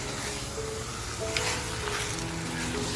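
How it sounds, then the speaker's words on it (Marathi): Mutton frying in a pan with dry, hotel-style masala gives off a steady, even sizzle, a soft continuous hiss with a faint tonal hum beneath it and no speech. "बघा मटण आपलं आहे ना अगदी व्यवस्थित असं फ्राय झालं पाहिजे"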